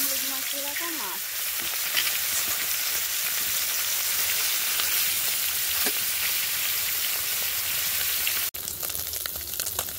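Marinated fish frying in hot oil in a kadai wok, giving a steady, loud, dense sizzle that runs throughout, with a brief voice at the start and a sharp break near the end.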